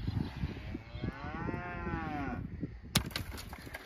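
A weaner calf moos on a farm during cattle wrangling, one long drawn-out low call with rising and falling pitch, heard amid outdoor rustling and a sharp knock near the end.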